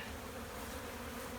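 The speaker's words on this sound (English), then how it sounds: "that many bees just hatched, and these are orientation flights." Honey bees swarm thickly in front of a hive entrance on orientation flights, a dense, steady buzz filling the air close by.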